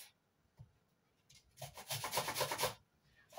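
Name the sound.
grating an onion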